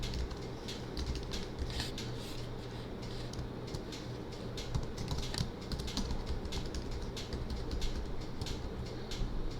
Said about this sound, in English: And then provide some admin username.